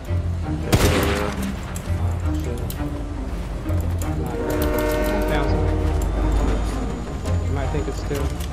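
A video-game train rumbles along with a loud horn blast and clattering wheels, heavy low rolling noise sustained throughout with tonal horn bursts, while players talk.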